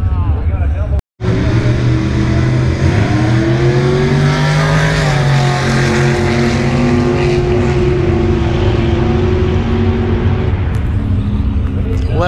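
A red Ford Mustang drag racing at a dragstrip roars close and loud, engine note climbing in pitch through a sustained run after a brief cut at the start, then fading slightly as it pulls away.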